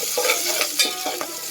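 Onions being stirred as they fry in a pan for khichdi, giving a steady sizzle broken by several soft scraping strokes of the spoon, close by with no talking.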